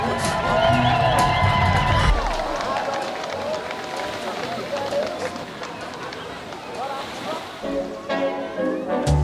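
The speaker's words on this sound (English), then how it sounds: "Please, can we have a little cheer for Danny and James?" Wedding guests in Cannes cheer for the couple, a burst of crowd cheering and whooping that rises loud and then tapers off, with voices and music at the edges.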